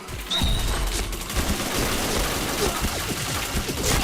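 Rapid gunfire from the first-person shooter PointBlank, a steady stream of sharp shots and impacts filling the whole clip at close range.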